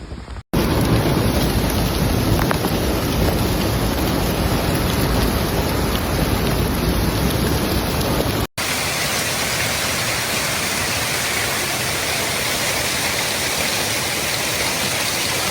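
Hailstorm with heavy rain and thunder in Phoenix, Arizona, a loud, dense, unbroken hiss of rain and hail striking surfaces with a low rumble beneath, briefly cut by a short gap partway through.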